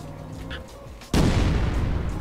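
A sudden loud explosive blast cuts in, then a sustained roaring rumble of a car blowing up in SA-MP, after quieter background tones.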